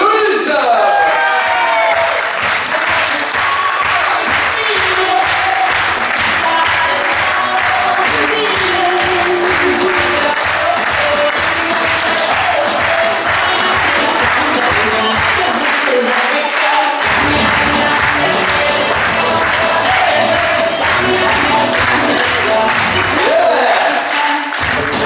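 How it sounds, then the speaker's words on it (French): A crowd at a resort staff presentation in Menorca applauds and cheers loudly and continuously for a team member, a dense wash of clapping with whoops, while a voice speaks over it. "applaudissements s'il vous plaît pour mademoiselle Héloïse"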